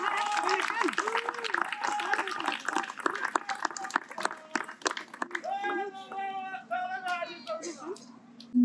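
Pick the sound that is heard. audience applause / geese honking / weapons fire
audience applause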